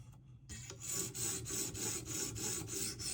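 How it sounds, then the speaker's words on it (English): Steel edge of a Spyderco Para 3 folding knife being ground on a sharpener as the burr comes off, a close, steady rasping scrape repeated in even strokes, with a quiet pause before it starts. "You can hear the burr coming off or flipping when we grind past it on this edge."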